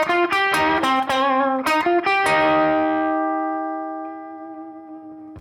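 A short blues lick of plucked electric guitar notes in quick succession, ending on a sustained note that rings out and slowly fades, with no voices.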